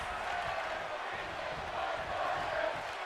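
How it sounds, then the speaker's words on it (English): Arena crowd noise in a WWE 2K wrestling video game, a steady wash of cheering and chanting at moderate level with no clear peaks, sustained for the whole stretch. "You hear the crowd."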